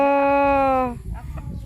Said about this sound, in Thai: คนจับกันกับไก่